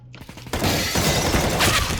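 Glass shattering in the CS:GO video game: a sharp, loud crash of breaking glass bursts in suddenly after a quiet moment and rings on in a bright, scattered tinkle of fragments.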